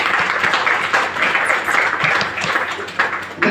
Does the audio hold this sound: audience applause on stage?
yes